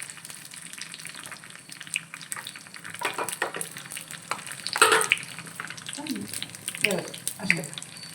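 Ramanad chillies fry in hot tempering oil for a GSB-style dal, a soft, steady sizzle with a few louder bursts of crackle and scraping, under intermittent talk.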